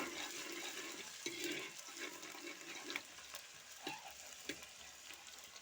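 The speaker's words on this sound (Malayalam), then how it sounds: "ചെറിയുള്ളി ഇട്ട് നല്ലോണം വഴറ്റി കൊടുക്കുക" Small shallots sauté in a pan for a Wayanad-style fish head curry with kudampuli. A soft, fairly faint frying hiss is heard with occasional stirring scrapes and clinks, close by and without voices.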